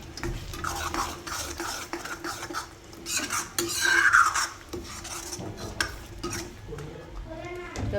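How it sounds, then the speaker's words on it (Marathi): Taro root and green peas being stir-fried in a masala in a pan, with a spoon scraping and clinking against the metal over a low sizzle, steady and close throughout. "तर 2 मिनिटं अजून परतून घेऊया."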